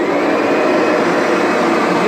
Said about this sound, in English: you set the vacuum up to the highest point possible, turn the vacuum on